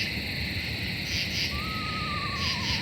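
A single eastern screech owl whinny, one quavering descending trill at moderate distance, carried over a constant chorus of crickets and night insects.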